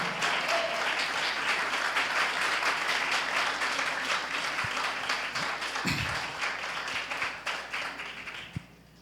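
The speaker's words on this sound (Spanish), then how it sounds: "Denle un aplauso fuerte al Señor." A church congregation applauds, sustained dense clapping filling the space for several seconds before thinning out and fading toward the end.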